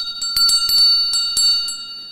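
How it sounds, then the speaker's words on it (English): A bell rings in several sharp, bright strikes spaced irregularly, each leaving a lingering metallic shimmer, close and fairly loud with no talking. "the Honorable Philip J. Pear, did ring the bell, of course, and I was right here"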